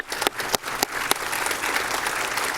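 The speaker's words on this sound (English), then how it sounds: "maybe a round of applause" An audience at a Toronto Transit Commission meeting claps steadily, with a few sharper individual claps standing out above the dense, continuous applause.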